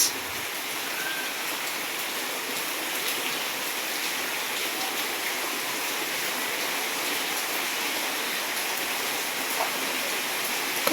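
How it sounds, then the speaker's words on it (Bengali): Heavy rain falls outside a house beside a jackfruit tree, a loud, steady, unbroken hiss of downpour with no pauses or voices. "আজকে বাইরে খুব বৃষ্টি হচ্ছে"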